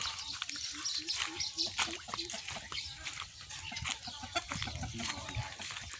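Hens cluck in a steady, repeated pattern at close range, mixed with outdoor farmyard noise beside fish ponds in Phichit, Thailand, and some background talking.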